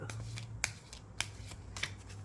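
Three quick riffling shuffles of a deck of cards, evenly spaced, crisp and close over a low steady hum.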